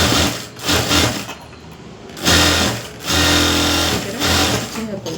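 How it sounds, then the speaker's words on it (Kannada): A sewing machine stitches a blouse in loud, rapid bursts that stop and start several times, each run a buzzing mechanical whir. "ಈ ಥರ ಸ್ಟಿಚಿಂಗ್ ಹಾಕ್ಕೊಬಿಡಿ ನೀವು ನೋಡಿ"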